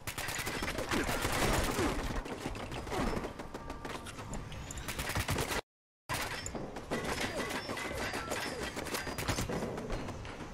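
Automated turrets in Fallout 76 fire in dense, continuous volleys of rapid gunshots, a sustained rattling barrage broken by one brief silent gap before resuming.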